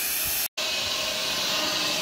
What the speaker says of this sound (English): let's steam clean this